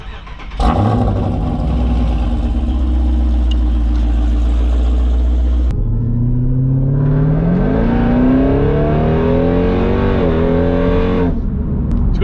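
A car engine starts, idles steadily, then revs and accelerates through rising gear changes, loud and close, with no talking over it.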